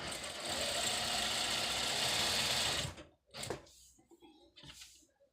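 A sewing machine stitches trousers in a continuous, loud, even run for about three seconds, then stops abruptly, followed by a few brief handling sounds close by.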